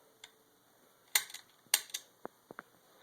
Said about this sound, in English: Trigger clicks.